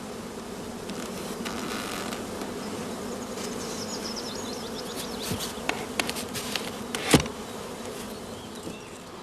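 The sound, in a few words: honeybees buzzing at an open beehive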